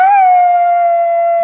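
A voice imitates a dog howling, one loud, steady, drawn-out howl held for over a second with no break and no other sound.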